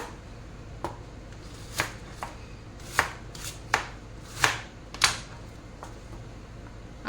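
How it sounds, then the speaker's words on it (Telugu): Onion is chopped into large pieces on a board. About eight separate knife strikes come at an uneven pace and are close and crisp against a quiet background, with no speech. "ఆనియన్ ఇట్లా పెద్ద ముక్కలుగా కట్ చేసుకోవాలి"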